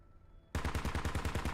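Sustained rapid automatic gunfire in a multiplayer war shooter, a fast even burst of about a dozen close, loud shots that cut in suddenly and keep going.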